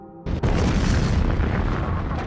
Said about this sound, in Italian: il rumore dell'esplosione viene udito